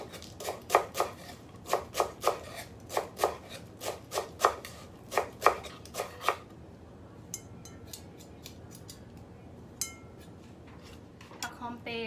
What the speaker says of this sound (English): This is fresh galanka. Okay. Cut small.